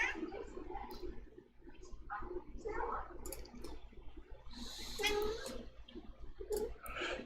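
A cat meows a few times, short strained cries rising over a room with a steady low hum, clicks and a trickle of water nearby.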